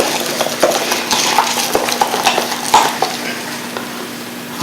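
Filler being mixed for repairing a rotted exterior door, with rapid wet scraping and tapping strokes in an uneven rhythm, close and fairly loud with no talk.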